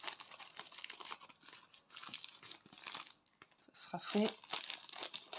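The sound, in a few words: unwrapping packaging of decorations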